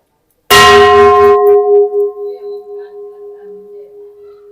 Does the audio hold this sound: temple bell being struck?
yes